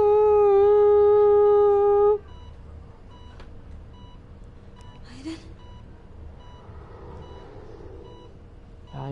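A loud, steady electronic beep holds for about two seconds in Beyond: Two Souls and then cuts off, leaving quiet room tone and a few faint scattered sounds.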